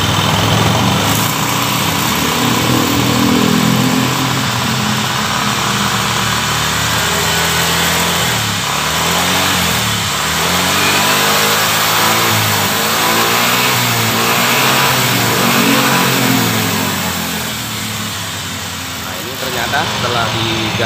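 A Yamaha Xeon motorcycle with a weak charging system fitted with a Tiger regulator revs hard and close by, its engine rising and falling through repeated throttle blips over a constant loud idle.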